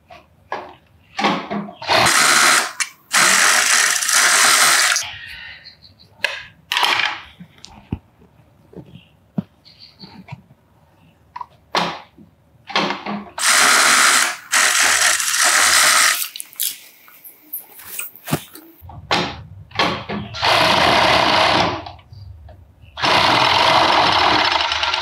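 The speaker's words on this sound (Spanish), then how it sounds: "le paso la fileteadora así, que me coja hasta la pestaña" Serger overlocking the cut fabric pieces of a summer blouse, running in several loud bursts of steady whirring stitching separated by short pauses and small handling sounds.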